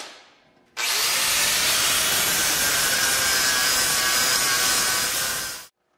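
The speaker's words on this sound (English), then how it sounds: "We wanna grind these tacks down so this back is nice and flat" An angle grinder flattens welded tacks on the back of a horseshoe wine rack: one steady, loud, harsh grinding whine that starts abruptly, runs for about five seconds without break, then winds down and stops.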